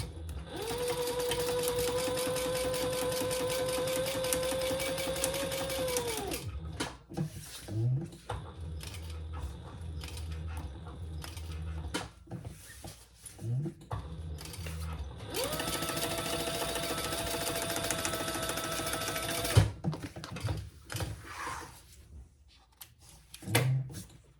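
A sewing machine top stitches a crossbody bag in two long, fast, steady runs of close whirring and clatter, separated by quieter stretches of fabric handling and small knocks.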